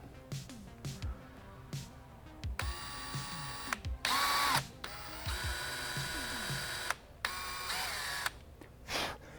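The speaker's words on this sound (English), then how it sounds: "This is a steel component, so I like to let the drill tip do all the work." A power drill bores through a steel motorcycle clutch component on a 2018+ Kawasaki Ninja 400 in repeated bursts of whining, grinding sound, stopping and restarting several times, with clicks and clatter in the pauses, close by.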